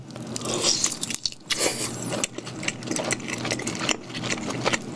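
Crunchy BHC fried chicken with a sweet jelly coating is bitten and chewed up close, giving repeated crisp crackles and crunches in an uneven rhythm.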